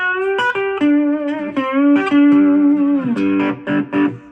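Slide guitar through a Roland MicroCube amplifier plays sustained, gliding notes that bend between pitches, loud and alone with a short phrase of plucked slides.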